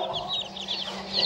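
Chickens and chicks cluck and cheep on a gamefarm, a steady run of soft clucks and high peeping calls overlapping at close to moderate distance, with no talk.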